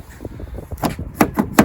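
The door lock of a Freelander 2 with a fault clicks and thunks several times in quick succession, sharp mechanical knocks at moderate volume with a faint background hum.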